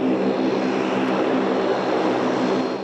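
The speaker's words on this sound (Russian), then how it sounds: "Этот самолет Dash-8Q400 приобретен для отечественной авиакомпании Osman Airlines." Dash-8 Q400 turboprop airliner at Manas airport, a steady droning engine roar holding constant and fairly loud throughout, with no voices.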